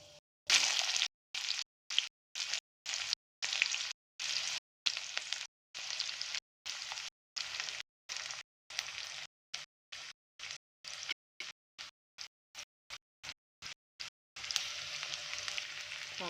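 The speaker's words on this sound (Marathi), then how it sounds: "हा कांदा छान परतून घेऊया 1 मिनिटभर." Chopped onion and curry leaves sizzle steadily in hot oil in a pan on a gas stove, a close, loud frying hiss broken into many short bursts by gaps, with no talking.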